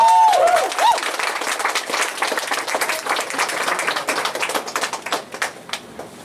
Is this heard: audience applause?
yes